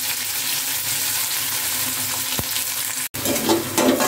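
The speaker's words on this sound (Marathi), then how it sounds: "कांदा आपल्याला परतून घ्यायचा आहे, जास्त लाल नाही करायचंय" Finely chopped onion with cumin sautéing in a pan for spicy lapsi, a loud, steady close sizzle with occasional stirring scrapes and a brief dropout before the frying resumes.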